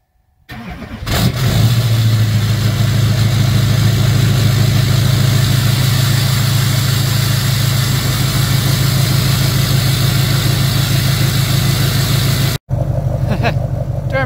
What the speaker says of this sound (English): Duramaxes don't have problems starting in the winter.